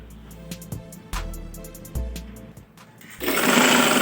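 A sewing machine runs in short stop-start bursts along the hem of a girl's winter frock, with clicks and thumps between runs and a louder, hissy stretch near the end.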